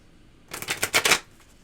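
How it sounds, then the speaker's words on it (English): A short, quick burst of tarot cards being riffled and shuffled, close and crisp, with near silence before and after. "I just give them some additional shuffles, which I am doing right now."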